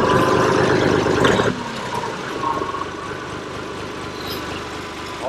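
A Lovol 254 compact tractor engine starts with a loud, rough burst, then settles into a steady, lower idle that drones on close by, with no talking.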